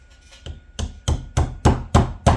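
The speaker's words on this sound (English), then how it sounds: "Just some light tapping" A hammer lightly taps a screw extractor driven into a Honda 4-track high-security ignition lock, eight sharp metallic knocks that speed up and grow louder, close by and alone.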